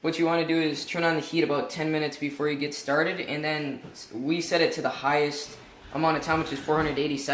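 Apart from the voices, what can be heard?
No everyday noises stand out.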